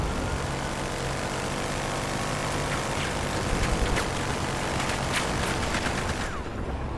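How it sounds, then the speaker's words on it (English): Police helicopter in the video game Battlefield Hardline, a dense, loud rotor roar with bursts of gunfire cutting through, constant throughout before dropping off near the end. "Police chopper, look out!"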